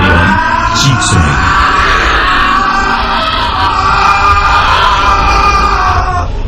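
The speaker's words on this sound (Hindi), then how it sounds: "उसके अंदर से शांतनु की कान के पर्दे फाड़ देने वाली चीख सुनी।" An ear-splitting scream from inside a carton in a Hindi ghost-story audio drama: a loud, sustained, piercing cry that holds steady over a rough, noisy background.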